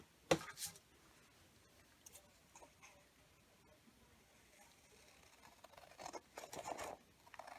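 Scissors snip through paper for crafting in a few quiet, crisp cuts at the start and end, with soft handling rustles between.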